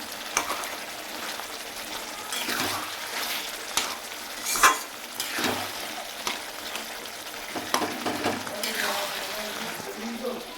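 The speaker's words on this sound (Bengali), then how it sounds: "এই যে দেখতে পাচ্ছেন আমি কাঁকড়ার আলুটা কষাচ্ছি, ভালো করে কষিয়ে নেবো এখন।" Potatoes are sautéed in oil and stirred for crab curry, a continuous close sizzle broken by repeated scraping spatula strokes and occasional clinks, with a voice talking faintly in places.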